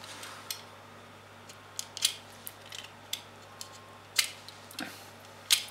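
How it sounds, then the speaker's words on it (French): A utility knife slits the insulation along a copper wire, producing a series of faint, short scratchy cuts and clicks at irregular intervals, close, with a low steady hum beneath and no talk. "il faut scalper le fil tout du long"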